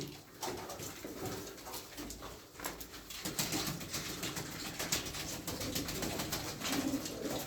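Pigeons in a loft coo softly and continuously, with dense fluttering and shuffling noises throughout and occasional wing flaps, while a dog is faintly heard in the background.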